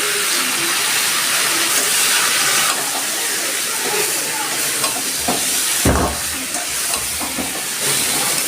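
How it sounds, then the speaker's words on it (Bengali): Washed masoor lentils hit a hot pan and set off a steady, loud sizzle with hissing steam, broken by a few stirring scrapes and a brief surge partway through. "মুখের ডালটা বৌমা ধুয়ে রেখেছে আমি ডালটা এর মধ্যে দিয়ে দিচ্ছি"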